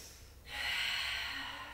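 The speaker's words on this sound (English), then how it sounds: "Breathing." A person doing a Pilates exercise draws one long, audible breath that swells after a quiet start and holds, close and breathy.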